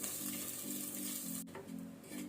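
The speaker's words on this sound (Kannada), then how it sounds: "ಇದನ್ನು ಸ್ವಲ್ಪ ನಾವು ಲೋ ಫ್ಲೇಮಲ್ಲಿ ಫ್ರೈ ಮಾಡ್ಕೊಳ್ಳುವ" Cumin and fenugreek (methi) seeds fry in oil on a low flame, giving a soft, steady sizzle with a faint repeating hum underneath and a brief scrape partway through.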